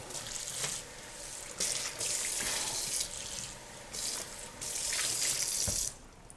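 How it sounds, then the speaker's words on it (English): A cooking pot is rinsed under a running kitchen tap, with water gushing and splashing in several bursts and brief pauses in between, close and fairly loud, with no speech. "We're gonna wash this real quick."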